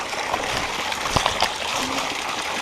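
Water spills steadily out the top of a well's settling tank, a close, continuous rush and trickle with a few small splashes and gurgles.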